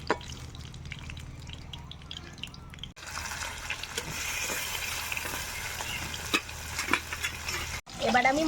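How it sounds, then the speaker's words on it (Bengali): Mrigal fish pieces fry in hot oil in a pan, a steady broadband sizzle with crackles and spatters, louder after the first few seconds, briefly cut near the end, no talking. "বাকি মাছগুলো এবার ভেজে নেব"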